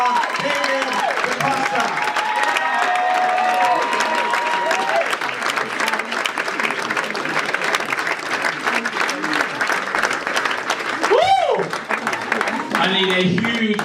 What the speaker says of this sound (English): give me a huge round of applause for our 3-star director